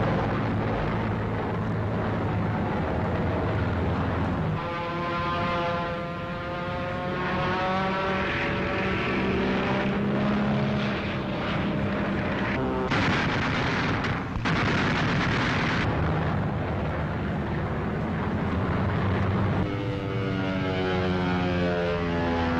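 Propeller-driven P-47 Thunderbolt fighters make a sustained, loud engine drone, joined by bursts of gunfire and explosive blasts as they attack a bomber formation, with the engine pitch shifting as planes pass.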